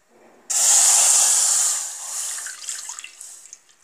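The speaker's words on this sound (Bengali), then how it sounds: "আমি চুলাতে কড়াই তুলে দিয়েছি, এখন এর মধ্যে দুধ দিয়ে দিচ্ছি" Milk hits a hot wok on the stove with a sudden loud hissing sizzle that starts abruptly, holds, then fades into softer crackling bubbles.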